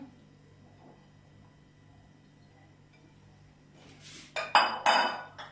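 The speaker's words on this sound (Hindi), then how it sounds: "अब हम इसमें कीमा डालेंगे" Minced meat goes into a cooking pot for aloo qeema with capsicum, after a long quiet stretch; near the end come a few close metallic clinks and clatters of utensil against pot, with no talking.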